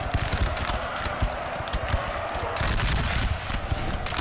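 Continuous crackling musket volleys from massed line infantry in Napoleon Total War, rapid overlapping shots forming a dense rattling fusillade at moderate distance, with faint talk beneath.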